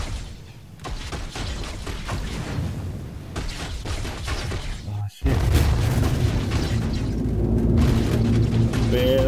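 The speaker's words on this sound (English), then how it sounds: "They're shooting at me." Enemy gunfire in the Star Citizen video game, a steady rumbling barrage of booms and shots that continues without pause and gets louder partway through, with a voice talking over it.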